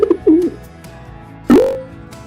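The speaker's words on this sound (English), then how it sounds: "Pigeon." A pigeon gives a single short, rising coo, close and clear, with a few faint softer calls before it and quiet background otherwise.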